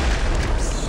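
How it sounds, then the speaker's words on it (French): A grenade detonates in the co-op shooter Killing Floor 2, a loud, dense, broadband blast filling the whole short moment with heavy low rumble. "c'est des grenades partout"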